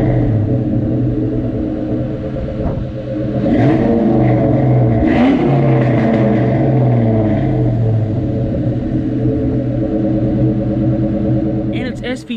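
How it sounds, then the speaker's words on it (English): A 1996–1998 Ford Mustang SVT Cobra engine runs steadily and loud throughout, its rumbling note swelling and revving slightly midway, with harmonic drones shifting in pitch as it pulls. "It sounds amazing."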